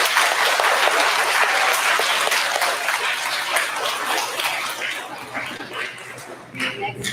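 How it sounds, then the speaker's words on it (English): A school assembly audience applauds a fifth grade class at an awards ceremony, a dense, sustained clatter of many hands that holds steady before thinning and fading toward the end. "Let's give Ms. Reynolds class a round of applause."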